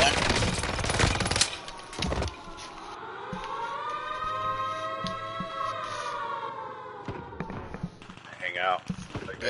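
Video game shooter gunfire set on an Alcatraz island map, sharp shots and a rattling burst near the start, then a long rising-and-falling siren wail with scattered hits, and a player talking over it.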